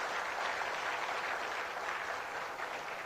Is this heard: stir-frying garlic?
no